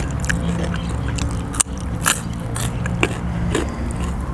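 Crisp crunching of pork cracklings being bitten and chewed close up, with irregular sharp snaps and crackles spaced across a few seconds.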